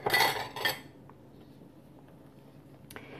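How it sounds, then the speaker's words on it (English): A spoon stirs beef stroganoff with beef broth in a pot. Two short, close scraping clinks come at the start, then near quiet with a faint tick near the end. "I'm going to give this a good stir."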